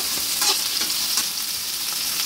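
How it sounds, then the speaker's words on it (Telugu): Sliced onions frying in hot oil with green chillies and curry leaves, a steady bright sizzle with a few soft stirring scrapes, close and continuous with no voices. "ఇది బాగా ఫ్రై అవ్వడం వల్ల ఆనియన్స్ వేసుకున్నాం."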